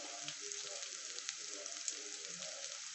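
Onions softening in a pan for sevai pulao, a quiet continuous hiss of frying with faint scattered pops and no voice over it.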